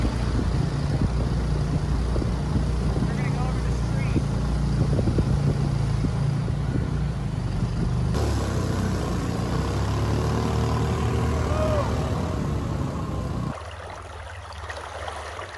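A motorboat engine runs with a steady, dense roar mixed with rushing water, continuous and fairly loud throughout, dropping somewhat in the final seconds, with no talking.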